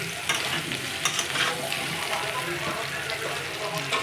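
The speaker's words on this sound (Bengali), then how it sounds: "নুন হলুদ দিয়ে আলুটাকে ভেজে নিয়েছি" Potatoes seasoned with salt and turmeric fry in hot oil, giving a steady, close crackling sizzle with scattered spoon-stirring clicks throughout.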